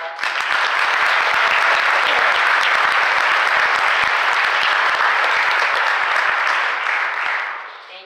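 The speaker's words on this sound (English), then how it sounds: "I want to give one more applause to these people right here" Graduation audience applauding, a dense, even burst of many hands clapping that swells in, holds strong for several seconds, then fades at the end.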